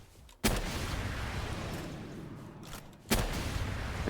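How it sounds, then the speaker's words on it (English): Grenade explosions in a shooter video game fight against level 40 human enemies: two sharp loud blasts with long rumbling decay, the first early and the second near the end, over a constant noisy game bed. "I can just stun lock them with the grenades"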